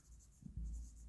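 A pen scratches briefly on paper while accounting entries are noted, a faint short scribble in a quiet room.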